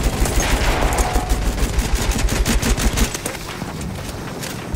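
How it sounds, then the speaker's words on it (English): An enemy machine gun fires in Battlefield 1, a loud rapid burst of shots rattling in quick succession for about three seconds before thinning into scattered fire. "Machine gun! One of theirs!"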